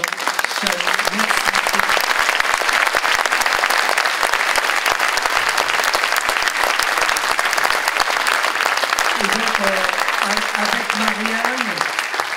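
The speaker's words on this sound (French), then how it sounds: "on peut applaudir encore une fois" Loud, sustained applause from an audience at a school orchestra event, dense even clapping filling the whole stretch, with a voice speaking faintly underneath at the start and near the end.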